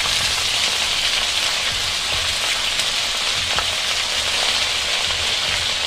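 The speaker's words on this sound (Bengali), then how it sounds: "রসুনটা একটু ভাজা ভাজা হতেই আমি এর মধ্যে দিয়ে দিচ্ছি লাল শাক" Red amaranth leaves frying with garlic in a hot pan, a loud, dense and continuous sizzle like steady rain, close up and without talk.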